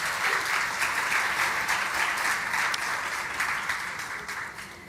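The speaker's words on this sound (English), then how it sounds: "can we have a round of applause for them" Audience applause at a Global Citizen India office gathering, a full, steady wash of clapping that holds level before easing slightly toward the end.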